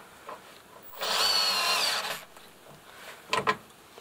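A Berner cordless screwdriver drives a screw into wood with one loud, steady whirring burst of about a second, followed by a couple of brief clunks and rubs close by.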